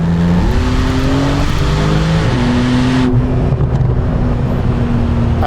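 An 800-horsepower Techart GTstreet R supercar accelerates hard from a standstill to 100 km/h, its loud engine climbing in pitch through several quick gear shifts in one continuous, close-up roar.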